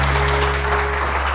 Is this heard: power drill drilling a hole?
no